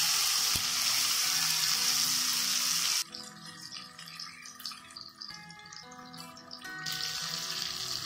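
Fish sizzling as it is shallow-fried in hot oil in a pan for meen pollichathu: a loud, steady hiss for about three seconds, then quieter crackling and spattering with light clinks that swells again toward the end.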